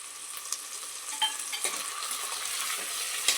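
Tomato and capsicum being stirred into masoor pulao frying in a pan, a steady soft sizzle with scraping spoon strokes and occasional clinks, close and moderately quiet, no voices.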